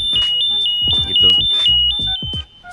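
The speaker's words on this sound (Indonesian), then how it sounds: "Unitnya akan alarm, dan semakin lama akan semakin kencang alarmnya gitu." A Riken Keiki GX3-R Pro portable gas detector sounds its alarm: a shrill electronic beep pulsing rapidly and steadily throughout, with someone speaking over it.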